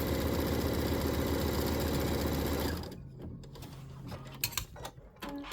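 A Brother Scan N Cut machine cutting fabric flowers gives a steady loud mechanical buzz for about three seconds, then stops sharply, followed by quieter clicks and small handling knocks.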